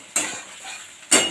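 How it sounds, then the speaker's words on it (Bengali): Chopped onions frying low in a pan, two short bursts of scraping as a utensil stirs them, with a soft sizzle in between. "পেঁয়াজটাকে ভেজে ভেজে একটু বাদামি কালার করতে হবে"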